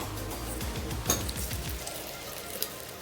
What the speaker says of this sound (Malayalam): അതിന് തന്നെ കുറച്ച് ഓയിലൊന്ന് ഒഴിച്ചു കൊടുക്കുക നമ്മുടെ പാനിലേക്ക്.